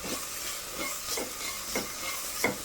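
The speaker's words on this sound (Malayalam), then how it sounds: "അത് ചെറുതീയിൽ നല്ലതായിട്ട് ഇളക്കണം" Chickpea curry masala stirred and sautéing in a pan over a low flame, a steady soft sizzle with several gentle scraping strokes of the spoon at an even pace, close and fairly quiet.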